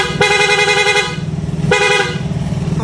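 A Honda TMX 155 motorcycle horn gives two loud, bright honks close by, each lasting about a second, with a short gap between them.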